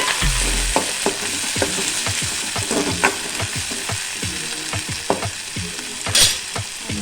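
Eggplant curry frying in a pan while being stirred with a utensil, a steady close sizzle under repeated sharp scrapes and knocks of the spoon against the pan, with no talk.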